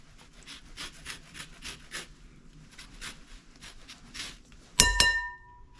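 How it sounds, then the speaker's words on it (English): A handheld zester scrapes the peel of a lemon in quick, light rhythmic strokes, close and fairly quiet, ending with a sharper clattering knock near the end; no one speaks. "you get a zester and you zest your lemon just like this"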